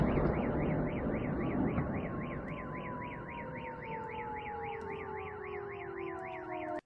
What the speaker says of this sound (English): The Russian car alarm's always going off